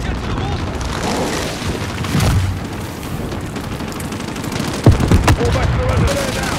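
Battlefield din from the Call of Duty Modern Warfare 2019 embassy invasion, with mortar booms and rattling gunfire under shouted radio chatter, swelling into heavier blasts near the end.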